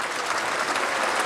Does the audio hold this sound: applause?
yes